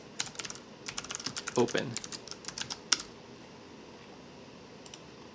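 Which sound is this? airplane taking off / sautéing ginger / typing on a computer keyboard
typing on a computer keyboard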